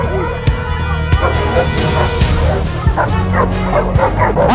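Several dogs yip, whimper and bark together in a close, continuous outdoor commotion, with a voice occasionally heard beneath the noise.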